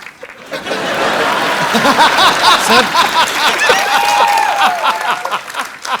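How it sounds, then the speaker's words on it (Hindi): Studio audience of a TV comedy show applauding and laughing for a film cast, loud clapping mixed with chuckles and cheering voices, close and continuous. "तो एक बार जोरदार तालियां हो जाएं पूरी मिर्जा की कास्ट के लिए।"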